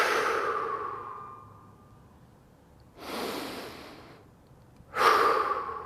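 Deep breathing during a yoga stretching session, three slow audible breaths in and out, close and breathy with quiet pauses between them.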